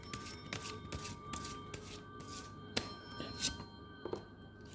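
Tarot cards shuffled and drawn by hand, a steady run of soft riffling and sliding card sounds with a few sharper snaps and taps, close and fairly quiet with no talking.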